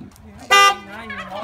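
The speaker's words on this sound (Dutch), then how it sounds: "Deze chauffeur die vindt het mooi om even te toeteren" A driver sounds a car horn near a camper in Dokkum: one loud, sharp honk lasting about a quarter second, rising abruptly over nearby voices, which keep talking afterward.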